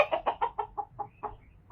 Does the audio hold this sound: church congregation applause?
no